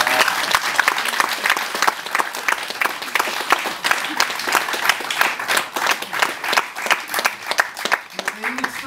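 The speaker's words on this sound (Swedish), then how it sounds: "Ska vi inte ge honom en applåd?" Audience applause bursts out amid a casual gathering, a dense run of many hands clapping fairly close and loud, with voices talking and calling out through it for most of its length.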